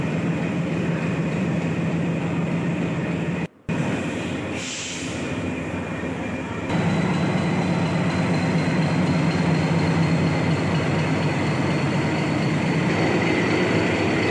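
The Mau–Anand Vihar Express rolls out past the washing pit, giving a steady loud rumble of wheels and carriages with a brief dropout, then a continuous rolling drone.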